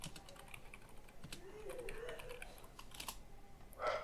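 Someone types on a computer keyboard, a scatter of light irregular key clicks over quiet room noise, faint and close, with no speech.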